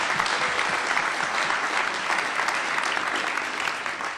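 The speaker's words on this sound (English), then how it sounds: "So big round of applause for our volunteers." An audience at an evening street-advocacy talk event applauds volunteers, a dense, steady wash of many hands clapping close and loud for the whole span, with no talk over it.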